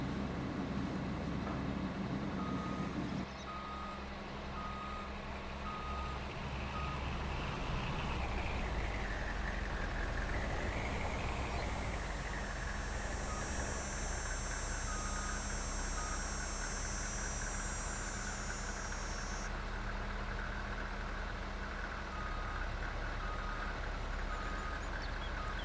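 Dump truck reversing at a gold mining pond in the Yukon, a steady run of reversing beeps pulsing over the low rumble of its idling diesel engine, moderately close and continuous.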